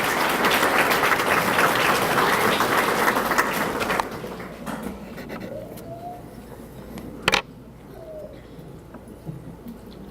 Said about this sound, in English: Give Malia a round of applause, please.